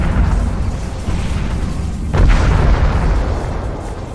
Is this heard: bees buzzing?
no